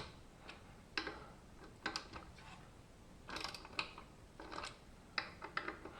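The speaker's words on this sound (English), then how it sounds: "Pretty standard how to torque a bolt." Torque wrench tightening bolts during paramotor assembly gives a series of sharp, close ratcheting clicks in uneven bursts, with quiet gaps between them and no talking.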